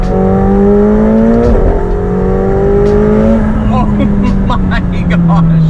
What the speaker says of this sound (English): Let's lower the rear window now and have a bit of fun with the exhaust.